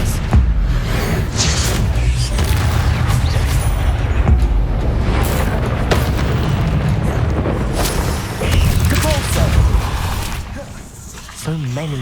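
Heavy magical spell impacts from the Hogwarts Legacy video game, including an Expelliarmus cast, burst out as dense, loud booms and crashes that run nearly without pause, with a voice speaking near the end.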